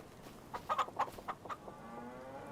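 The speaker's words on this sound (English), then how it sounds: "How are our chickens doing?" Chickens and a rooster in a Farming Simulator 25 farmyard cluck in a quick burst of several sharp calls, close and clear against a quiet background hum, with no talking.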